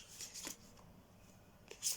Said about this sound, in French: Je vais mélanger les cartes pour faire un tirage et en sélectionner une.